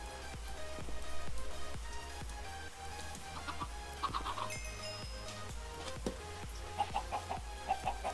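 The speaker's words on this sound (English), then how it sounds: "Now more chickens." Minecraft chickens cluck in short bursts over a steady synthetic background tune, with a few sharper clucks near the end.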